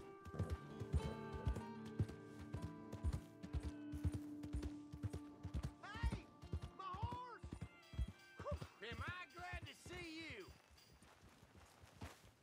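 Hooves clip-clop in a steady, close rhythm as a horse walks in Red Dead Redemption 2, the hoofbeats continuing under voices that begin talking midway.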